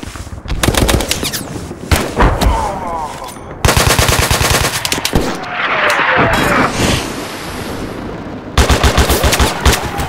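Rapid machine-gun bursts and gunshots from the video game Mud and Blood, loud and dense in repeated volleys with short gaps, plus a louder rattling burst near the end and occasional voices underneath.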